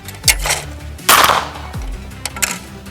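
A Retay Gordion shotgun fired at a shooting test, with sharp loud shots cracking out at intervals and ringing briefly after each blast, heard close with no talking.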